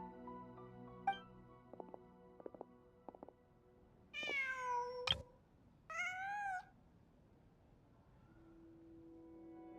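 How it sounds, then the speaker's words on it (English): Two clear, close meows from a cat in the video game Genshin Impact, each drawn out and rising then falling, after a few faint clicks and tones over quiet game ambience. "Huh. Just a cat."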